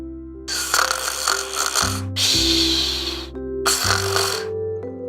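A person imitates snoring with loud, rasping, throaty snorts in three long drawn-out breaths, close and alone with no talk.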